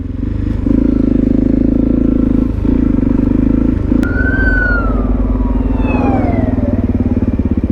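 A motorcycle rides along a freeway, its engine holding a loud, steady drone close up, with a brief dip and then a rising whine of revving as the bike speeds up.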